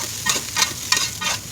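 Basmati rice stir-fried in a pan with green chili and celery for nasi goreng: a close, steady sizzle with rhythmic scraping strokes of a spatula about every third of a second.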